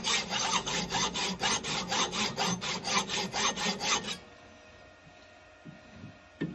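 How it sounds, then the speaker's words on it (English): A hacksaw cuts metal stock for a hexagon drive chuck key in rhythmic back-and-forth strokes, about a dozen even rasping pulls, then stops into a quiet workshop hum. "So we get that out of the way, hacksaw, and then just take that little bit off."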